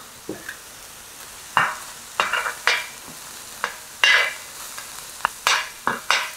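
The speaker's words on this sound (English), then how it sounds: "you want to fry until the aromatic flavors of the ginger and the garlic come out" Ginger and garlic frying in vegetable oil in a pot, with scattered short stirring scrapes and sizzling bursts over a low, steady background, close by with no talk.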